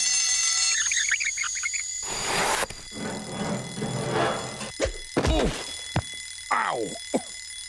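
Cartoon alarm clock on a home-made automatic wake-up machine ringing with a bright metallic bell, mixed with clanks, thunks and squeaky mechanical noises over several seconds.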